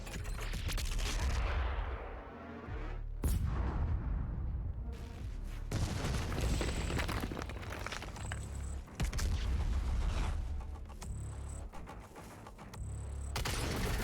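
Heavy cannon blasts from a first-person shooter, Doom Eternal, come after an override countdown: loud booming impacts and rolling gunfire fill the scene continuously, with sharp bursts and a dense low rumble and no talk.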